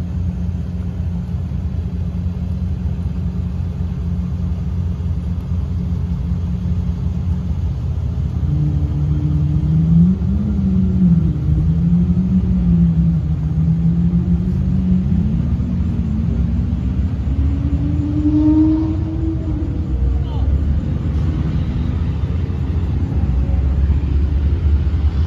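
Semi truck idling with a steady low rumble, engine note rising and wavering as it backs slowly to couple its fifth wheel under a trailer kingpin; continuous and fairly close, with no talk.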